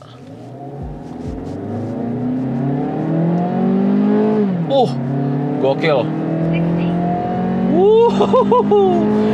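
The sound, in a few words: hatchback car accelerating hard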